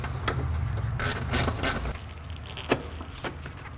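Bolts being tightened on a Honda Civic hood latch, with a few quick ratchet clicks and metallic taps spaced irregularly over a low hum, close and fairly quiet, no talking.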